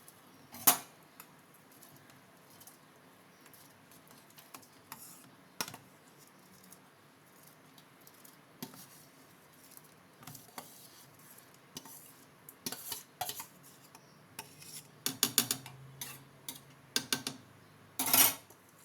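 Soaked basmati rice being added to a pot of hot water on a gas stove, with scattered clinks and knocks of utensils against the pot, mostly quiet between a few sharper taps.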